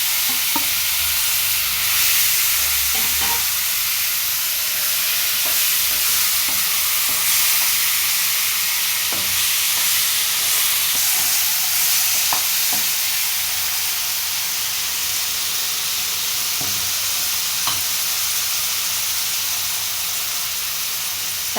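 Chopped tomatoes stir-fried in a pan for Indian egg curry, a steady close sizzle and hiss running throughout with occasional scraping stirs of a spatula, no voices.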